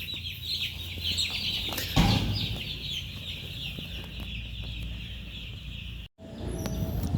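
Caught birds inside a broiler poultry tunnel house flap and rustle near the microphone over a constant fan-like background hum and chirping, with a brief louder flurry partway through and a short drop-out near the end.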